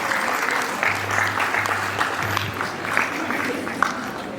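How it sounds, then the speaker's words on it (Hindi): Audience applause welcoming a speaker at a priest's birthday celebration in a hostel in Gumla, Jharkhand: dense, steady clapping from a crowd, sustained and fairly loud throughout. "तो चलिए हम जोरदार तालियों के साथ उनका स्वागत करें।"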